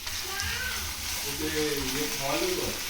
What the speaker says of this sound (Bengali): ভেন্ডি ঝাল করছি, ফ্রাই, পেঁয়াজ টেয়াজ দিয়ে।